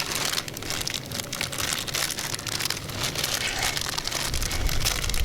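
An instant ramen bag is peeled open outdoors, giving dense, continuous crinkling and crackling of plastic packaging, close and fairly loud, with rustling bursts throughout.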